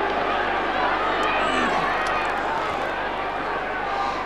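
A large crowd at a 1995 AFL match between Fremantle and Richmond shouts in a steady, loud roar that carries on without a break, with a commentator talking over it.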